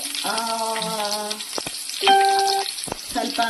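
Onions sautéing in a pan of oil give a steady, close sizzle, with a few brief clicks and sustained tonal notes over it.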